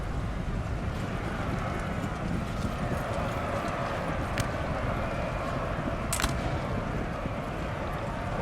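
Horses of cavalry dragoons move slowly across a Napoleon Total War battlefield, a steady dense clip-clop of many hooves under a constant wash of battle noise, with a couple of brief sharp sounds standing out.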